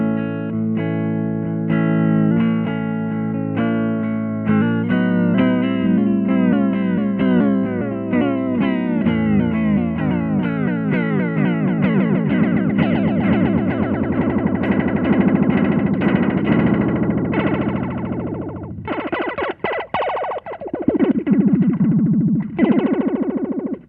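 An electric guitar plays through a Moog MF Chorus pedal as its rate is turned up, sustained chords starting steady and then wobbling faster and more warbly, with swirling pitch motion and a few sharp strums near the end; no talking.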